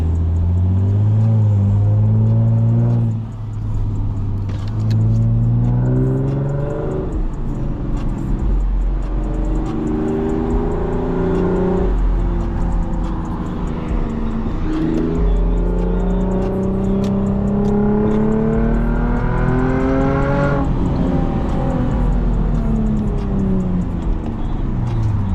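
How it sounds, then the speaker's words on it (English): A straight-piped Lexus IS250 exhaust roars loudly from the driver's seat, climbing and falling through repeated revs and gear changes with a continuous raspy drone and no talking. "car sounds wonderful though, very, very wonderful"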